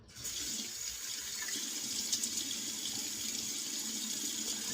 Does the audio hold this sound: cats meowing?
no